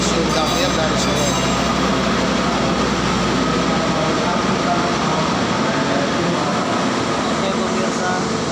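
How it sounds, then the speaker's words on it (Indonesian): The Senja Utama Solo passenger train departs a station on its run from Solo to Gambir, producing a steady, loud rumbling roar with a low drone that holds throughout. "Ini Senja Utama Solo yang berangkat menuju stasiun Gambir dari Solo."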